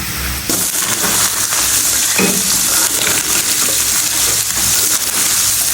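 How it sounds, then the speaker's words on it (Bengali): Mixed vegetable chorchori frying in oil in a pan, giving a loud, steady, close sizzle that crackles without pause from start to finish. "ভাজছি"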